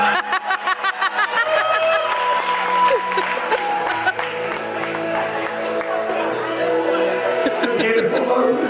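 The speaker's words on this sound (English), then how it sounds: "Give these gentlemen a round of applause" Applause and a few cheers from a cruise ship audience after a boy band performance, starting as scattered claps and swelling into dense clapping mixed with crowd chatter and laughter, with music tones lingering underneath.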